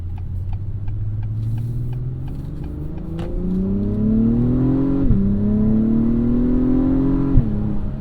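A 355 hp 2021 Acura TLX Type S revs hard while driving, its engine note climbing steadily through the gears with two quick drops at the shifts. The loud, close drone plays alone without speech.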